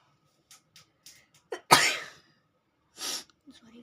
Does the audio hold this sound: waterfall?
no